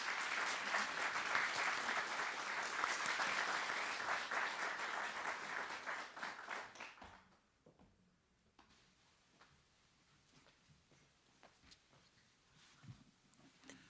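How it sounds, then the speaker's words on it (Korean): A large audience at an awards ceremony gives a warm round of applause to welcome a speaker, dense clapping for about seven seconds that then quickly fades, leaving a quiet room with a few faint scattered claps. "여러분, 이사장님을 큰 박수로 모시겠습니다."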